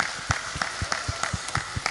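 An audience at a Ramadan religious gathering claps hands in a quick, regular rhythm, the claps fairly close and moderately loud over a busy room background.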